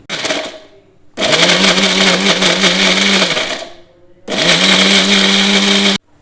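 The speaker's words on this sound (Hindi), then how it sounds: "अब इसका ढक्कन लगा के इसको ब्लेंड करूँगी।" A blender coarsely grinds gram flour boondi in two loud, steady bursts with a brief pause between them, and each run stops abruptly, with no talking.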